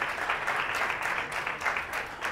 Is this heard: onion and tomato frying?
no